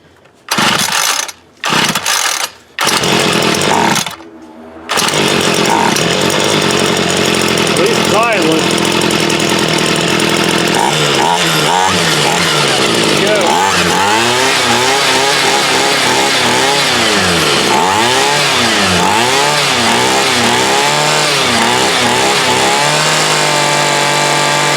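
A Homelite UT33650A 26cc string trimmer engine sputters through several short attempts, then catches and runs with a loud, continuous buzzing snarl that wavers in pitch as the throttle changes, while someone talks over it.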